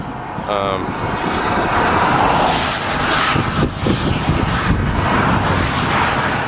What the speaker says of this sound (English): Oh, this traffic, constant traffic. It's just fun. Constant cars.